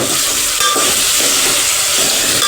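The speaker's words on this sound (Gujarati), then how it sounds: "આપણે ડુંગળીને સળવા દઈશું।" Steady, dense sizzling of onions frying in a hot pan, loud and close, with a constant crackling hiss and no voices.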